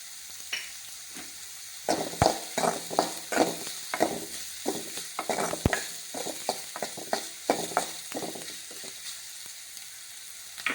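Masala for tea-stall style masala bonda sautéing in a pan, with a steady frying sizzle under repeated scraping and stirring clinks, close and moderately loud, no talking.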